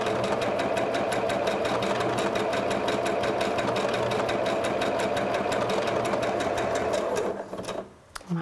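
A Pfaff Passport 2.0 sewing machine stitches fabric with a lanceolate needle, a loud, steady mechanical whirr with rapid regular ticking that runs unbroken for about seven seconds, then slows and stops with a few soft clicks.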